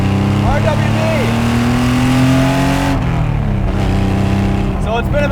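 Air-cooled RWB Porsche 930 Targa flat-six engine, loud and close from inside the car, revving up through a gear and then dropping in pitch as it shifts, with wind and road noise throughout.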